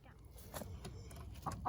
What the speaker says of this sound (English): it looks like we have made one of our hens angry.